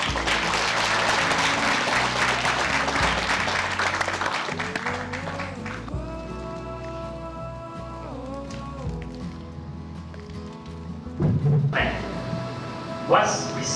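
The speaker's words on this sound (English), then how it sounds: "Let us give Mr. Andhika Kun a warm round of applause." Applause from a ceremony audience, dense clapping at the start that thins out as tonal music comes in, with a brief burst of sound near the end.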